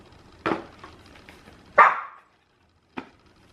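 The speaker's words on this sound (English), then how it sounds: "What are you barking at?" A dog barks three times, sharp and fairly close, with short pauses between barks and quiet in between.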